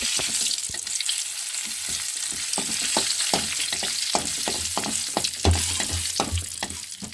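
Curry leaves and dried red chillies crackle and sizzle in hot oil, a steady close-up fry with sharp irregular pops and spits throughout and no talk.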